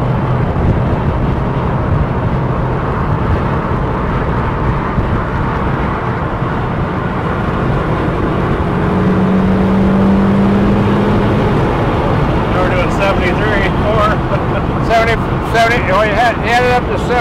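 A 1962 Chevrolet Corvette roadster cruises along a road at highway speed, giving a steady engine drone and wind rush throughout, with people talking over it.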